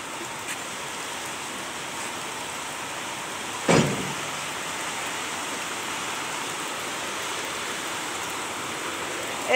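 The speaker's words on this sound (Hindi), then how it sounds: "एकदम बारिश आ गई बिना बादलों।" Soft, steady hiss of rain falling under a sunny, cloudless sky, broad and even throughout, with one brief louder rustle partway through.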